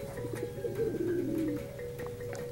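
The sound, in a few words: pet pigeon cooing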